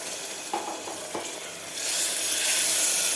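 Water is splashed into a pan of frying spice masala, leftover ground masala rinsed from the mixer, for a cowpea and potato curry, and it sizzles up into a loud, steady hiss after a few soft clinks of stirring.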